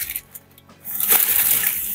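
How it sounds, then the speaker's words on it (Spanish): Baking paper is dipped and scrunched in water in a kitchen, with a few brief crinkles and drips followed by a longer wet sloshing, splattering rustle close by. "voy a coger un papel de horno, lo voy a mojar en agua"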